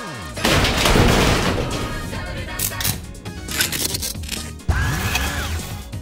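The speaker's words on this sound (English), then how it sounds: "while being shocked at the explosion sounds that came soon after" Loud booming blasts and crashing debris, followed by metallic clanking and grinding, with a sharp impact near the end and a rising whine after.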